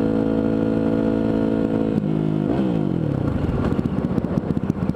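A Yamaha WR450X motorcycle engine runs loud and close in gear, holding a steady drone before the pitch dips and shifts, then settling into a rougher, choppier idle-like chug.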